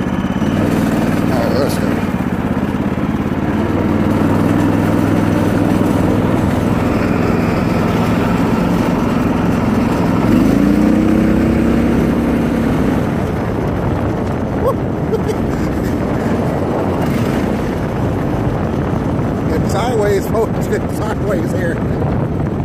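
A 420 lawn tractor engine drones steadily while pulling a go-kart weighing about 200 pounds with a rider aboard, a continuous low rumble under wind noise throughout.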